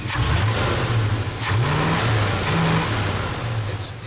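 A 1977 Ford F350 wrecker truck's engine revs up close by, then bogs down and stumbles, cutting out repeatedly in uneven surges. No voices are heard over it.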